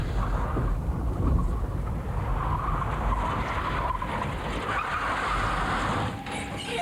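A skid car skids under hard braking at a 1986 Birmingham motorsport event: a sustained, rough tyre scrub and roar over a constant noisy background, with no voices.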